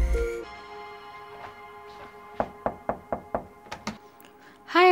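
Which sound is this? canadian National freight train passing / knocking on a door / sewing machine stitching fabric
knocking on a door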